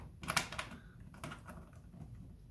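Keycaps snap back onto a mechanical keyboard, giving a few quiet, uneven plastic clicks and taps at close range with pauses between presses.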